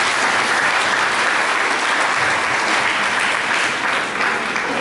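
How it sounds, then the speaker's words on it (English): Steady, dense applause from a large crowd at a peace convention at St Thomas Aquinas College, Erepi, in West Nile, sustained at full strength for several seconds with no let-up. "I want you to give her a real applause"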